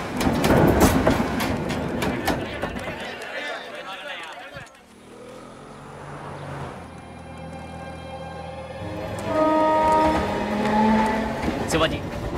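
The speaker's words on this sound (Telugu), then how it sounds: "బండి బయలుదేరింది." A train pulls away from a station, its low engine rumble and steady rolling noise building and holding throughout, with busy crowd and station clatter around it.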